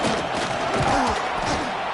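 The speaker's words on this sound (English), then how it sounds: "this crowd trying to help keep them there" A football stadium crowd during a Texas game roars in a dense, steady wall of noise, loud and continuous throughout.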